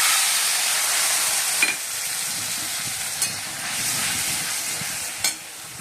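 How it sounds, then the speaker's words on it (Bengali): Poppy seed and mustard paste sizzles in hot oil in a wok, a steady close frying hiss with occasional brief spatters and pops throughout. "চলো কড়াইতে তেল দিয়ে দিয়েছি, আর পোস্ত আর সর্ষে বাটা দিয়ে দিলাম"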